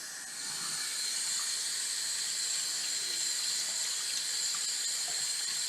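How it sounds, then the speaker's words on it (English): Running tap water pours steadily over the parts of a Noisy Cricket device being rinsed clean, a continuous close hiss of water with no speech. "So let's go ahead and start rinsing this stuff off."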